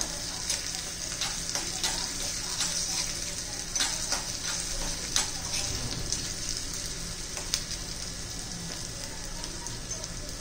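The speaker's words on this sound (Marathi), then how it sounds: "लसूण आणि आलं पण चांगलं परतलं गेलं पाहिजे." Garlic and ginger paste sautés in oil for a dahi tadka, a continuous close sizzle and crackle with occasional soft stirring scrapes and pops, steady and moderately loud throughout.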